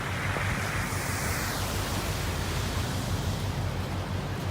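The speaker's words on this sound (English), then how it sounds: "Extremely bad flash flooding here in Pullman." Flash floodwater in Pullman, Washington, a river that has burst its banks and is surging past shops, gives a loud, steady, broadband roar of rushing water that never lets up.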